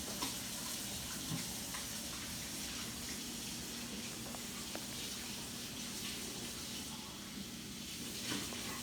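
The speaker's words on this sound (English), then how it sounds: "I'm gonna wash my hands real quick" Steady broadband hiss of a kitchen tap running as hands are washed, constant and moderately close for the whole stretch, with faint clinks and a low hum underneath.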